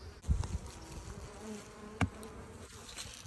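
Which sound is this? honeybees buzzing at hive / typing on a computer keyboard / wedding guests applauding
honeybees buzzing at hive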